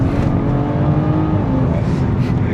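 Heard from the cabin, a BMW F30 engine pulls hard under acceleration, a loud, continuous throaty drone with shifting harmonics and a rumbling low end.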